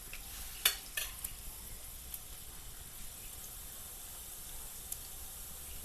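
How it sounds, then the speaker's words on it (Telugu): Ridge gourd goes into a frying Telangana-style curry and gets stirred, heard as a low, even sizzle with a couple of sharp clatters near the start, then quieter scraping taps. "నెక్స్ట్ మనం బీరకాయ వేసుకోవాలి"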